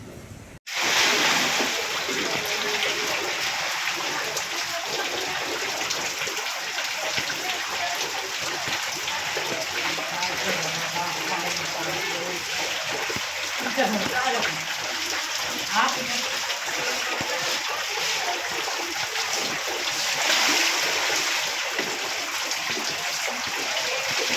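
Rainwater splashes and pours steadily inside a flooded house during heavy monsoon rain in Kalyan-Dombivli, with water being bailed into a bucket; a continuous wet wash runs the whole time with faint voices in the background.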